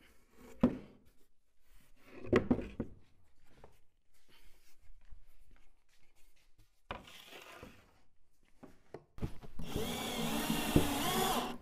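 An electric drill bores holes in a wooden panel with a brief whine midway and a sustained, loud drilling run at the end, after scattered knocks and handling noises.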